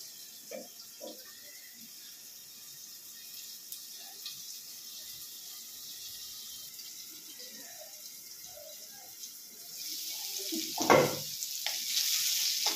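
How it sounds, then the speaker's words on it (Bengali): Potatoes fry in a covered pan, a low steady sizzle with scattered taps, then a louder hiss and clatter as the lid or spoon moves near the end. "আলুগুলো একটু লাল করে ভেজে দিতে হবে"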